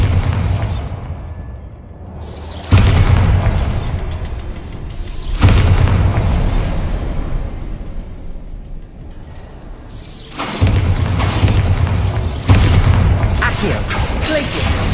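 Bombarda spell explosions burst in a wizard video game. Four loud, booming blasts arrive at uneven intervals, each followed by crackling debris and a rumbling decay.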